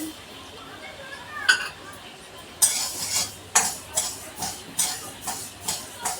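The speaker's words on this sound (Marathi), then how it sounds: "कढई ना गरम झाली आहे आता ही मोहरी मी गरम करून घेते" Mustard seeds roasting in a hot kadhai, stirred with a metal spoon in regular scraping strokes that grow rhythmic, with a faint sizzle and a background voice.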